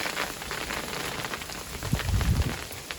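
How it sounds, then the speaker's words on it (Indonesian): Hail falls in a dense, steady patter of hard pellets striking surfaces nearby, a continuous crackling hiss with a heavier thump partway through. "Lihat esnya jatuh. Hujan es."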